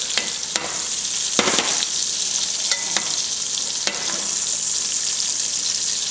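Sausage sizzles steadily in a frying pan after about ten minutes of browning, a constant close hiss broken by a few sharp scrapes and clatters of a slotted spoon stirring through the pan.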